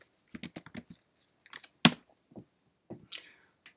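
Buttons tapped on a calculator while entering numbers: a string of quick, crisp clicks in small irregular clusters with brief gaps, close and fairly quiet, with no speech.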